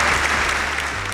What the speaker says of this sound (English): I feel like there should be applause.